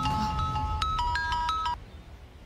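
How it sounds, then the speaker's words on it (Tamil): A mobile phone plays a short melodic ringtone for an incoming call in a Tamil TV drama scene; the tune runs under a second and a half, then cuts off, leaving faint room noise. "மைனி, எசக்கி அக்கா ஃபோன் பண்ணுதா."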